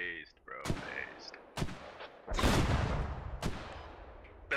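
Mortar and gunfire in the Star Wars Galactic Contention game, with several sharp blasts and one heavier rolling boom spaced through the moment, while faint voices talk in the background.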